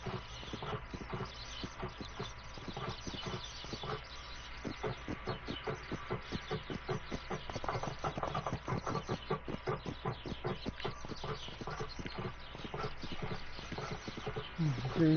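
Steady clip-clopping of horse hooves at a riding stable in a horse-riding video game, fast rhythmic beats running continuously at moderate loudness over a background bed of game sound.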